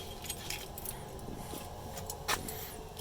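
A bunch of RV keys, including a Ford ignition key, jangle in a continuous faint metallic rattle, with a brighter shake near the end, under low background rumble.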